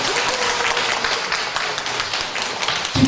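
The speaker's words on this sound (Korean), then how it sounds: "제1부의장님을 큰 박수로 환영합니다." Audience applause greeting the Gyeongsangnam-do provincial council's first deputy speaker at a Korean church rally in Jinju, a dense, steady wash of clapping that carries on for the whole stretch without any talk.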